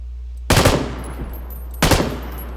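Two short, loud machine gun bursts in the PUBG video game, each a sharp rapid crack that fades quickly, about 1.4 seconds apart, over a low steady hum.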